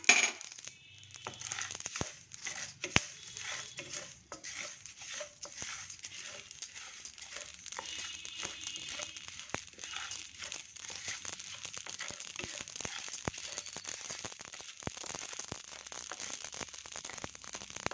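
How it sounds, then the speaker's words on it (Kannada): Poppy seeds and curry leaves crackle and pop while roasting in a hot pan for a spiced powder. Dense, steady sizzling runs throughout, broken by many sharp close ticks and pops, with no talk. "ಇದರೊಳಗಡೆ ಗಸಗಸೆ ಮತ್ತು ಕರಿಬೇವು ಹಾಕ್ಕೊಳ್ತೀನಿ"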